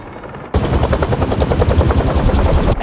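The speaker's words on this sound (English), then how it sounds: "a helicopter's blades." Helicopter blades from the video game Marvel's Spider-Man 2 kick in abruptly after a brief quiet moment. The loud, rapid rotor chop pulses steadily and close, then cuts off sharply at the end. Nobody speaks.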